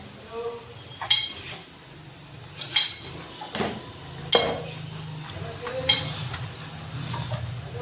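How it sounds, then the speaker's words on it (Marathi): A metal spoon clinks and scrapes against a pot while tea is stirred, producing several sharp, separate clinks at irregular moments over soft background noise, with a voice speaking quietly in between. "तेवर आपण चहा पुन्हा एकदा ढवळून घेऊया चांगला."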